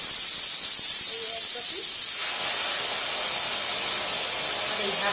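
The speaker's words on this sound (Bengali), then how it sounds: "প্রেসার কুকারে আলু সেদ্ধ হচ্ছে" Continuous loud, high hiss of steam escaping from a pressure cooker boiling potatoes in a home kitchen, holding steady for the whole stretch with faint low clatter underneath.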